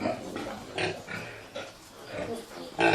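A sow grunts in a pig shed on a farm, a series of short, close oinks recurring roughly every half second, heard under a voice.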